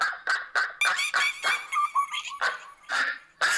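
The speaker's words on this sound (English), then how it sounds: "the sound of those randy monkeys, iguanas, and ducks procreating in Stan's Zitz bath" Ducks and other animals call in a comic sound-effect bed, with repeated nasal honks, squeaks and squawks in quick, uneven bursts, loud and close with no talking.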